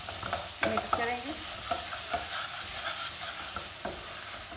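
Vegetable noodles fry in a pan under a fairly quiet, steady sizzle, punctuated by a handful of stirring scrapes and light utensil taps near the start, with no speech.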